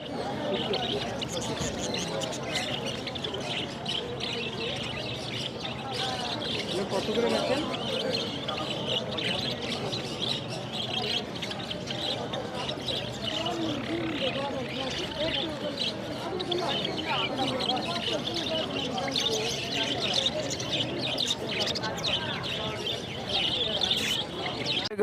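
Zebra finches and crested Bengalese finches chirp and twitter continuously in a busy chorus at the Mirpur bird market, while people talk nearby and market bustle fills the background.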